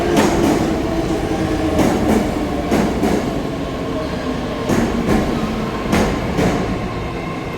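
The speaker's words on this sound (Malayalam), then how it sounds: "ട്രെയിൻ വരുന്നുണ്ട്." A Saint Petersburg metro train, on a line built in 1955, rolls into a station with a loud, steady rumble and repeated rhythmic clicks of wheels over rail joints. No one speaks.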